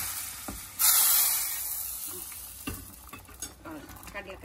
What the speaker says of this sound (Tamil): கடுகு நல்லா பொறி பொறிஞ்சதுக்கு அப்புறம் கருவேப்பில ஆஃப் பண்ணிடலாம்.